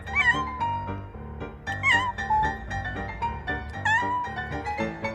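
A person makes a series of drawn-out, wavering meows and yowls in imitation of a cat, repeated loudly and up close in several phrases.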